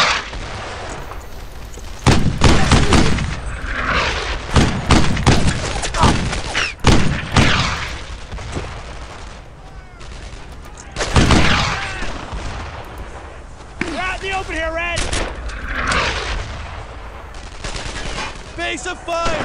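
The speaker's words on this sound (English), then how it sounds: "I see that mortar, it's right over there." Dense World War II combat from the Brothers in Arms video game, with heavy bursts of rifle and machine-gun fire and booming mortar blasts, loud and continuous and layered with shouting voices.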